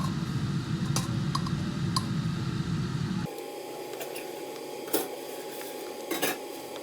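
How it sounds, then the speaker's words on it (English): Salmon pieces being added to a pot of sauce, with a few light metallic clinks of utensil on pot over a low bubbling simmer in a home kitchen. "Now I'm gonna add the 2 pieces of salmon that weren't crusted."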